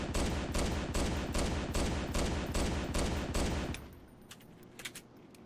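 Rapid automatic assault rifle fire from the video game Halo 2, loud and close in a steady burst of about a dozen shots, then stopping with faint scattered shots and effects after.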